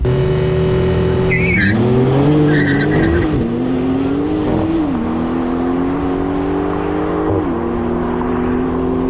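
A BMW M5 and a Porsche Turbo S launch together in a race, engines climbing loudly through rising revs with tire squeal and gear changes, heard close amid wind noise.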